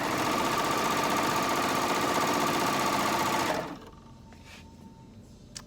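A serger sewing machine stitches a picnic quilt, a loud, fast, steady mechanical chatter that runs close up for several seconds, then stops abruptly, leaving faint clicks.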